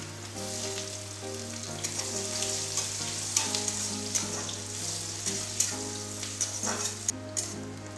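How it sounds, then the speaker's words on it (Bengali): Chopped onions frying in refined oil with cumin for an egg curry, giving a dense, steady sizzle with scattered pops and light stirring, with a constant low hum underneath. "দেখুন আমি লাল করে পেঁয়াজটা ভেজে নিয়েছি।"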